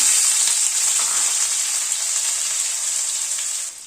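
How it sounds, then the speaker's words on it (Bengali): Small winter potatoes, boiled and peeled, frying in hot oil with a loud, steady hissing sizzle that stays close and constant before dropping slightly at the very end, with no voices. "আলুটাকে আগে একটু ভেজে নিচ্ছি।"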